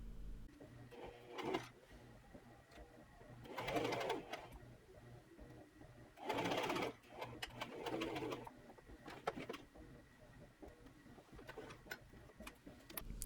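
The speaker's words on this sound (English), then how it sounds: "I am just sewing the side seams just past the waist" A sewing machine stitches the side seams of a bias-cut maxi dress in several short bursts separated by pauses, with a bird cooing faintly in the background.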